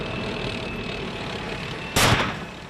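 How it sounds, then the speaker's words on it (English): A tank fires on a suicide truck bomb during fighting near Mosul: one sharp, loud blast from a distance, briefly breaking through steady engine and battlefield rumble. "A tank fired at a suicide truck bomb before it could wreak its havoc."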